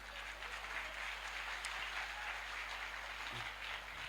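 Steady, dense applause from an audience at a training session in Agra fills the whole stretch, a continuous even patter with no voices over it.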